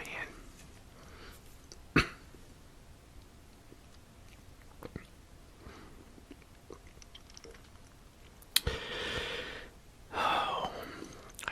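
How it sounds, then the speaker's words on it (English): A few sharp coughs break a quiet stretch: one short burst early on, then two louder, breathy coughs near the end. "I still hate to cough because it hurts right here when I cough."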